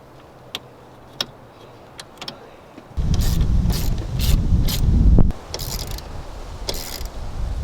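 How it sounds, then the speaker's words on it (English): A wrench works loose the nut on a vehicle battery terminal: a few sharp metallic clicks, then a loud, steady ratcheting whir for a couple of seconds, followed by lighter scattered clicks, close up with no talk. "We're going to basically take off the little nut from the terminal to the vehicle battery"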